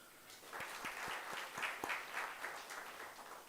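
Audience applause at a mining workshop lecture, a fairly quiet spread of clapping with a few sharper individual claps standing out, steady for several seconds.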